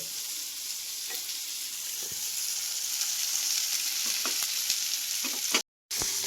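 Jitada fish fries in a pan, giving a continuous bright sizzle with scattered soft taps and stirring clicks and a brief drop-out near the end.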